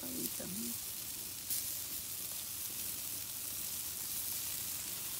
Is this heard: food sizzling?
yes